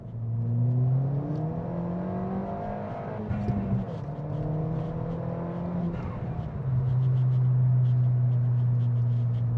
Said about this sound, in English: Do a little second gear pull here.